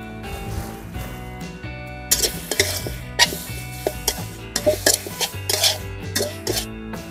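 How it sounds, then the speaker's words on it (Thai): Stir-frying cooked cow feet in a pan: a spatula scrapes and clatters against metal in quick irregular strokes, with soft sizzling and music underneath. "ก็ใส่ลงไปเลยตีนงัวนี่สุกแล้วก็ไม่ต้องผัดนาน"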